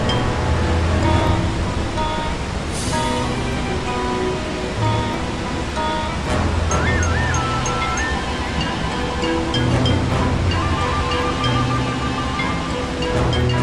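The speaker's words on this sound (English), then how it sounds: "as they went over a huge waterfall" Rushing waterfall water roars continuously in a dense, steady wash, loud and close, with faint melodic tones layered over it, in a children's storybook app.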